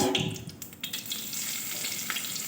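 Onion frying in a pan for a potato and egg sandwich, a soft close sizzle with a few stirring clatters and scrapes early on, then a steady low crackle.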